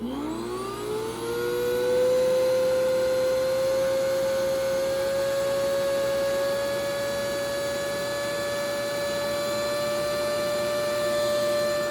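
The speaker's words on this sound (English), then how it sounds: "So we're gonna set this to the 1, and I'm gonna let you guys hear what it sounds like before I vacuum the dog." A dog grooming vacuum switched on at its lowest setting, starting with a rising whine that settles into a steady, loud, continuous motor drone with a strong tonal hum, running alone without talk.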